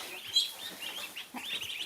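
Young ducklings crowded together under a heat lamp in a hay-bedded coop give repeated thin, high peeping chirps, close and fairly lively, with no talk.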